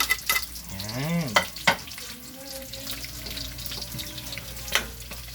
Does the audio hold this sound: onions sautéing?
yes